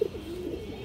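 A silver bagha pigeon gives one quiet, low coo at the start, then a faint murmur follows. The bird sounds close and no one talks.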